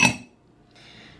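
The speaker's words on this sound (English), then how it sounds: "I put my spoon and whisk in the dang sink" Metal spoon and whisk dropped into a kitchen sink, a single bright clink at the start that fades quickly into near silence.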